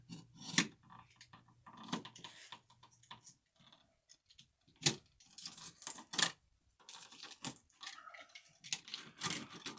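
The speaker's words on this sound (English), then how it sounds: "Now what I'm going to do is I'm going to cut my sheathing back." Electrical cable sheathing being cut back by hand for a ceiling fan install, a run of small snips, clicks and scrapes, close and quiet, coming in irregular bursts with short pauses.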